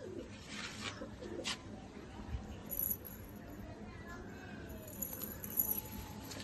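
Pet pigeons in a fancier's loft coo softly and intermittently, faint against a low background hum with occasional light clinks.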